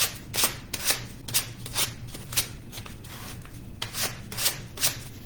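Rubbing the excess off the edges of a handmade DIY craft cross: a steady run of about a dozen close, rhythmic scraping strokes with no talk.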